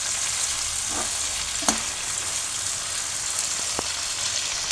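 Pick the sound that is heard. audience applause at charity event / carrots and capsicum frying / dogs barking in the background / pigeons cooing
carrots and capsicum frying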